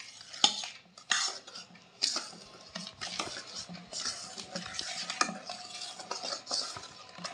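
Semolina being stirred into a milk batter for patishapta pitha, a spoon or whisk clinking and scraping against the bowl in an uneven, busy rhythm up close, with no talking.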